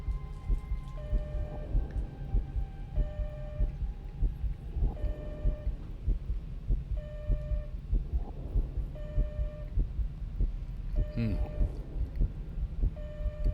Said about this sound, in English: Just in time for some ambient heartbeat.